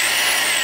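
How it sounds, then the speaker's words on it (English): Variable speed power drill boring into plastic, a loud steady high whine that holds throughout the brief moment with no talking. "So we're just going to drill into it. This is plastic, so it's going to drill relatively easy."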